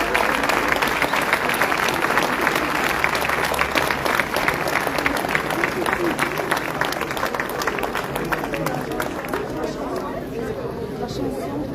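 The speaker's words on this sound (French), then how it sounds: "On peut les applaudir aussi, hein," A crowd at a public gathering outside a hospital in Oloron-Sainte-Marie claps continuously, dense and sustained applause mixed with chatter and voices throughout.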